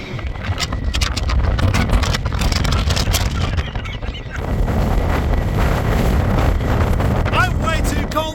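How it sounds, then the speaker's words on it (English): Strong gusting wind buffeting the microphone on an exposed hilltop at the Singing Ringing Tree, a steady loud roar that dips briefly midway, with a faint whistling tone near the end. "when it's as windy as this"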